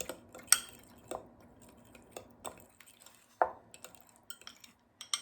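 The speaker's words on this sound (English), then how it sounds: "And we're gonna stir that around, check our consistency." A utensil stirring a cinnamon toast crunch cereal muffin batter in a bowl, giving soft scrapes and occasional light clinks against the bowl, quiet and intermittent.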